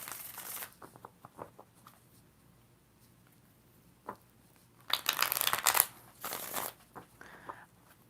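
Tarot cards are shuffled in short crisp bursts: a riffle at the start, scattered soft taps, then two louder flurries of fluttering card noise near the end, close and clear with no talking.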